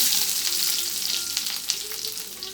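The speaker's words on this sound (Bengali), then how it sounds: "কড়াইটা গরম হয়ে গেছে তেল ঢেলে দিছি দেখেন আস্তা জিরে পরিমাণ মতন রসুন কুচি" Whole cumin seeds and chopped garlic hit hot oil in a wok and sizzle loudly, a dense hiss and crackle that slowly eases off, with no one speaking.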